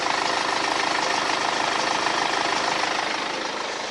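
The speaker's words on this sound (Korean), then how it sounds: "엔진 소음 먼저 들려드리면은" Diesel engine of a German SUV with about 80,000 km idling, a steady, even clatter and hum heard up close under the open hood, with no talking.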